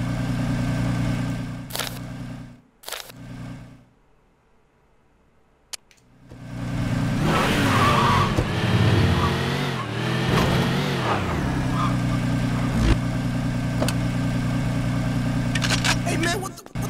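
A car in the video game Scarface: The World Is Yours drives up and skids, a droning engine that swells into a sweeping whoosh midway, after a brief quiet gap, with voices heard.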